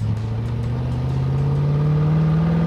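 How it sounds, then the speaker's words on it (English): A Corvette engine idles with a deep, steady purr, then rises slightly in pitch as it revs gently, close and loud with no talking. "It runs like a dream. And it really does purr."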